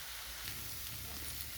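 Chopped beto greens (bathua) fry in a pan, giving a steady, soft, even sizzle with fine crackling throughout. No other sounds are heard.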